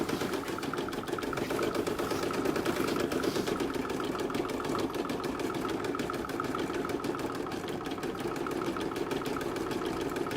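An embroidery machine stitches a long yellow segment on an in-the-hoop zip bag project, a fast steady mechanical whir with rapid needle rhythm, constant and close for the whole stretch.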